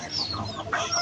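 Hens on a home farm clucking close by, a continuous run of short, nasal calls with a louder burst near the end, no talking.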